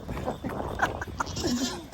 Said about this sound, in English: Y'all are some silly goats.